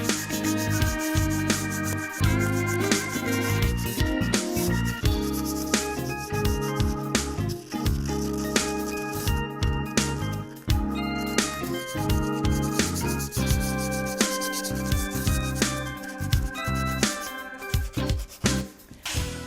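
Sandpaper rubs back and forth across a wooden chair in quick, continuous strokes, loud and close, with scratchy rasping throughout.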